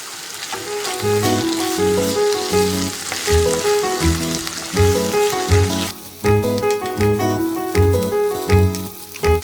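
Black pepper, cumin and salt sizzle as a sauce is sautéed in a pan for cauliflower manti: a steady frying hiss runs throughout beneath loud, rhythmic background music.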